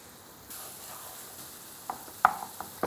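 Chopped tomatoes with chili powder, coriander powder and salt cooking in a pan for kofta kebab: a soft steady sizzle with a few faint stirring clicks and scrapes, quiet and close.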